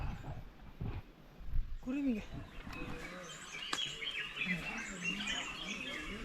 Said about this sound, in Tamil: குருவிங்க பாருங்கள் எவ்வளோ அழகாக சத்தமிடுது.